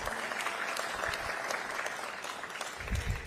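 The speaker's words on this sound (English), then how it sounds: "Can you all give them a hand of applause, please?" Audience applause for interns at a city summer internship program closing ceremony, a steady dense clapping from a crowd that continues throughout without any talk.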